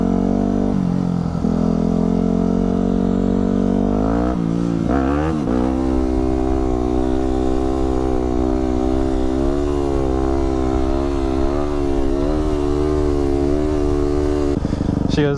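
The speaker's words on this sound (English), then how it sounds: "so we're gonna send her a video of me doing a wheelie." A motorcycle engine revs loud and close during a wheelie, rising from idle into a sustained high-pitched drone that wavers as the throttle shifts, alone without talk.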